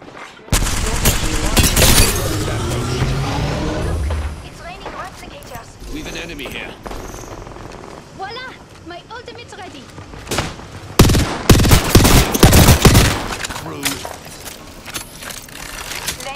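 Rapid gunfire bursts from Apex Legends Season 17 weapons, loud and close, with sharp repeated shots in clusters, a heavy volley near the end, mixed with game effects and a character voice calling out.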